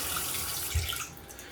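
Water pours from a poorly fitted faucet into a low-profile vessel sink, splashing about: a steady, close rush with one brief louder splash, and no talking.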